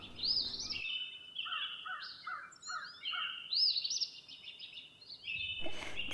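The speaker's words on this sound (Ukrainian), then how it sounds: "Оце розкричалися пташки, бо вони прилетіли до годівнички" Several winter birds call and chatter at a feeder in quick, overlapping bursts, with harsh caws and bright chirps close by, against a quiet background.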